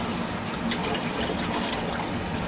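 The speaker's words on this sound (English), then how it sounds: "So I always rinse my clean dishes with cold water." Cold tap water pours steadily over clean dishes at the sink, a loud, continuous close-up gush and splash with no break.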